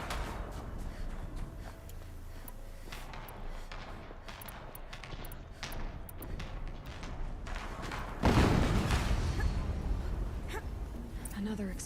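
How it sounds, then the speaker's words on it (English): A heavy explosion in a video game lands as one sudden, fairly loud broadband boom late on, after a stretch of quieter rumbling and scattered thuds. "Another explosion."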